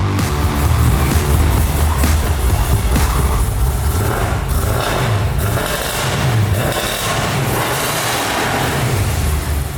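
Jeff Lutz's 1957 Chevy street car drives with a loud, continuous engine rumble and broadband roar that holds steady throughout, with no talking.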